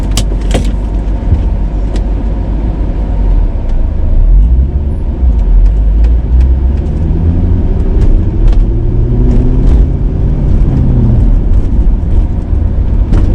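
A Corvette heard from the driver's seat as it is driven, with a low engine rumble and road noise throughout, small knocks and a few rising and falling engine tones partway through.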